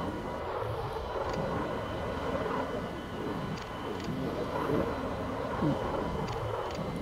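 Eurofighter jet in the video game Flight Simulator 2020, a steady, broad engine roar held evenly throughout with faint clicks over it.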